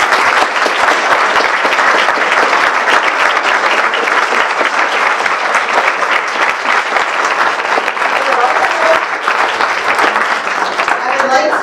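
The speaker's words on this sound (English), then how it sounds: "Please thank them again with your applause." An audience at a mayoral candidates forum applauds loudly and steadily, a dense wash of clapping from a large crowd that holds for the whole stretch without fading.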